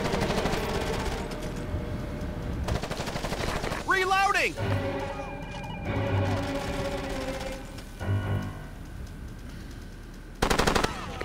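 Automatic gunfire bursts and single shots ring out in the PS3 shooter Ghost Recon Advanced Warfighter 2, loud and close, mixed with squad radio voices talking over the combat.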